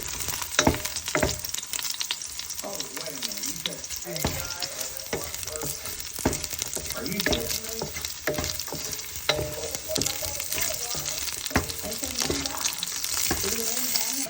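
Pork frying in a pan for Filipino humba, sizzling loudly and continuously while a utensil stirs and scrapes the meat with frequent clacks; faint voices murmur beneath the sizzle.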